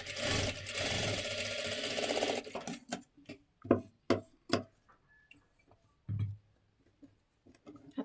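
A sewing machine stitches a side seam on a child's jacket cut from a sari's pallu, running in a dense steady burr for over two seconds, then stopping and giving way to scattered clicks and short knocks of the mechanism.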